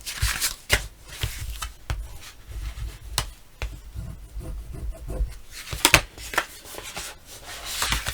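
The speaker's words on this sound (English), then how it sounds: "And we're going to fold and burnish." Chipboard for a mini album cover being folded and burnished by hand, a steady run of close, dry rubbing and scraping strokes with soft taps between them.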